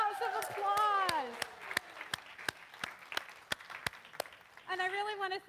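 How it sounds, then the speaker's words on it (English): Scattered, evenly spaced claps ring out in a church sanctuary, a congregation's sparse applause with clear gaps between the sharp hits; a voice is heard before the claps and again at the end. "rounds of applause."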